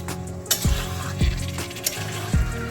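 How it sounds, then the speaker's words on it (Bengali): Marinated chicken being stirred in a hot pan for Hyderabadi chicken masala, a steady low sizzle broken by a few distinct scrapes and knocks of a utensil against the pan, close and with no talking. "এবারে আমরা এতে অ্যাড করে নেব চিকেনটা। চিকেনটা দিয়ে এভাবে কিছুক্ষণ নাড়াচাড়া করে নিতে হবে।"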